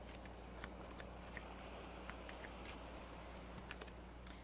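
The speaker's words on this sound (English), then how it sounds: "let me just see who comes up if I shuffle them" A deck of oracle cards is shuffled by hand, a run of light quick ticks and riffling flicks over a quiet low hum, with no talking.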